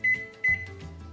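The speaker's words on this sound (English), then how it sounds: "Now we're going to put it in the microwave" Microwave oven heating cake mix from a kit, two short electronic beeps followed by a low hum starting up, close and clear.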